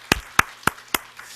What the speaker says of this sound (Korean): 우리 축복하는 박수 한번 하겠습니다